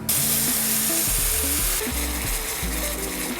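A ladle of stock hits toasted risotto rice in a home kitchen pan with a sudden loud hiss, then sizzles steadily while a spoon stirs and scrapes in uneven close strokes, with no one talking.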